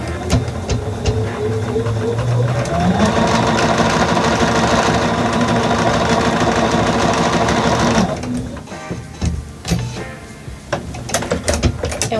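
Sewing machine running a steady line of stitches through fabric, a continuous close mechanical whir that rises in speed, then stops into scattered clicks and handling noises.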